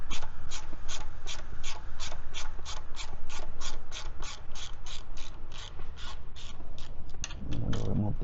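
Ratchet wrench backing a 10mm bolt off a 2008 Kawasaki Mule 3010 carburetor: a long, steady run of close, crisp clicking pawl strokes, evenly paced, ending in a brief handling clatter.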